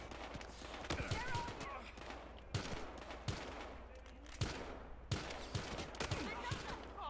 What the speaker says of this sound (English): Is he shooting me? Alright, he was shooting at me.